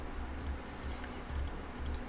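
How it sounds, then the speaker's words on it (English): Steady typing on a mechanical keyboard fills the room, quick irregular clacks in bursts against a low hum, fairly faint and with no voices. "I want to apologize for the keystrokes that you hear in the background. I have a mechanical keyboard."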